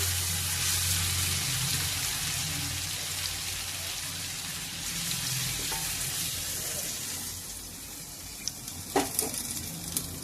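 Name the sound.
curry sizzling after water is added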